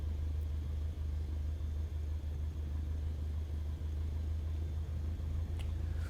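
A small aircraft taxiing toward the runway, its engine a steady low droning rumble with faint rhythmic pulsing, heard up close from inside and continuous throughout.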